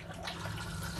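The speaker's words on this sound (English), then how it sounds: "So there's the flush." A cassette toilet in an Auto-Trail Tribute 715 motorhome flushes, giving a steady close rush of water that runs unbroken for the whole moment, with no voices.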